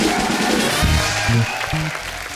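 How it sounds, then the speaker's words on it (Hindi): Studio audience applause on a comedy show, a broad, loud wash of many clapping hands running steadily throughout, with a few low tones sounding underneath. "एक बार शानुदा और समीर साहब के लिए जोरदार तालियां"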